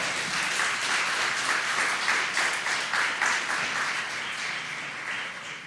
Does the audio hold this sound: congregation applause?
yes